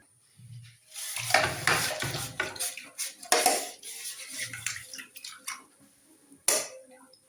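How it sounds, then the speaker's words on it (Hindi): Dishes, pots and pans being washed by hand at home: irregular clanks and clatters of metal utensils and cutlery knocking together, close and fairly loud, with brief pauses and no talk. "हम ये बर्तन जमा हो गए, बर्तन धोते हैं"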